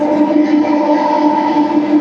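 A train horn blares close and loud as one steady, unbroken tone for the whole moment.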